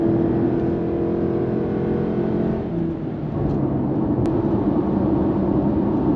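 A Lexus NX300h hybrid's engine drones steadily under acceleration at around 3,000 rpm, a constant mid-level whir with a slight shift in pitch partway through and no voices.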